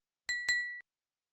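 A bright notification bell chime plays in two quick metallic dings that ring briefly and cut off cleanly, alone against silence.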